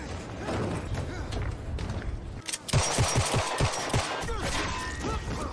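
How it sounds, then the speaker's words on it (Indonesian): A burst of rapid gunshots rings out in an exchange of fire from the 2025 action thriller film Havoc, several sharp cracks in quick succession over a dense, rumbling film soundtrack. "Mereka bertukar tembakan."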